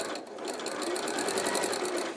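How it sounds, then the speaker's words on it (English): A domestic sewing machine stitches steadily around a corner, a continuous close whirring hum with a fast, even rhythmic ticking of the needle throughout, no talk. "Be careful not to sew over your stick, because it's got wire in the middle of it, so you could break a needle on that."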